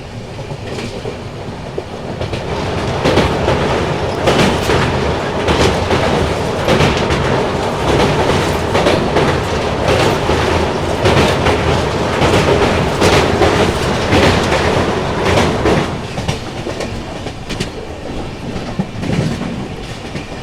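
A train rumbles along steadily as it crosses a bridge over the Shipra River, its wheels clattering loudly and continuously over the track for the whole stretch, with no voices.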